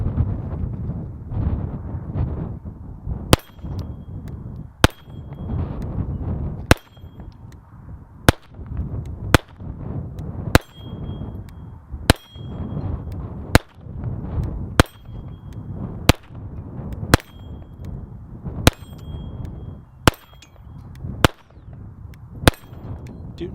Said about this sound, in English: this time I'm going to shoot some Velocitors